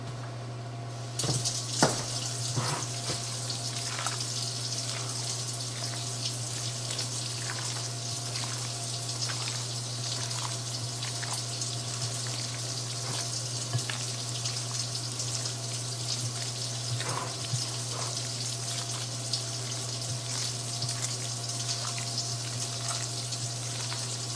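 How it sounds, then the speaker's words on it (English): Hot water runs steadily from a kitchen tap in a continuous even stream, with faint clinks and splashes from a sink throughout. "Let me get my hot water going."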